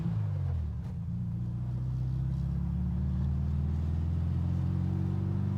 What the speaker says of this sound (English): She revs herself out real good.